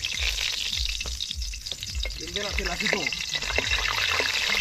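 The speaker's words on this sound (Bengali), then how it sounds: "এই তেল গরম করতে হয়েছে আর এই কাঁচা লঙ্কা দিব" Green chilies frying in hot oil for a duck-meat picnic curry, a steady dense sizzle with scraping stir sounds running throughout, while people talk over it.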